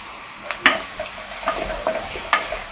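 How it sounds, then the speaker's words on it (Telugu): Ginger-garlic paste frying in a pan for chicken curry, with a steady close sizzle broken by several sharp spoon scrapes and taps against the pan at an irregular pace. "మనకు పచ్చివాసన పోయేదాకా ఈ అల్లం వెల్లిపాయ అనేది కొంచెం ఫ్రై చేసుకోవాలి"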